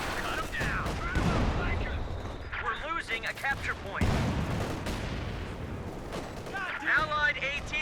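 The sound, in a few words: artillery barrages in video game Company of Heroes 2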